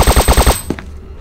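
A P90 fires in rapid automatic bursts in the SCP: Containment Breach multiplayer mod. Five loud, close shots come in quick, even succession, then one fainter shot trails off.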